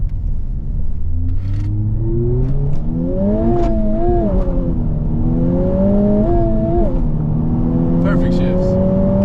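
A Honda Civic Type-R pulls hard through the gears, its engine note climbing in rising sweeps broken by quick shifts, loud and close from inside the cabin while people talk over it.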